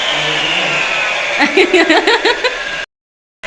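Power machine cuts granite for window frames in a new house under construction, a loud steady whine running for most of the stretch with brief louder surges, then cutting off abruptly into silence before restarting.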